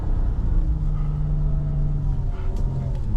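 A car drifting through a figure-eight, its engine droning loudly and steadily nearby with slight rises and falls in pitch as the throttle shifts.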